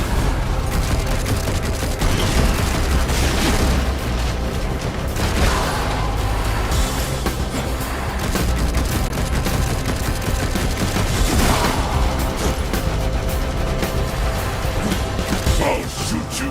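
Heavy gunfire fills a Darksiders Genesis cutscene, dense bursts and booms layered over a loud continuous score, with crashes and mechanical clatter throughout.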